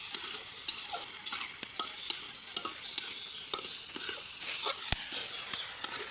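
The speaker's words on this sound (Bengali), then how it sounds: "এটা খুব সুন্দরভাবে কিন্তু কষিয়ে দিলাম, দেখছেন।" Chicken feet and wings with whole garlic are sautéed in a pan, giving a steady faint sizzle broken by repeated soft scrapes and clicks of a utensil stirring, close by and without speech.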